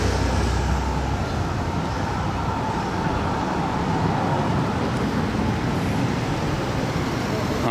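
A Ferrari 599 moves through Monaco street traffic. A steady, broad roar of engines and road noise runs throughout, with no single distinct pass-by standing out, and voices can be heard faintly in the mix.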